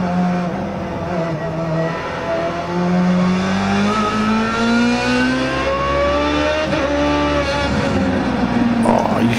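Open-wheel race car in the iRacing sim revving loudly and close, pitch climbing through the gears with a shift and wheel spin in third, while someone talks over the engine.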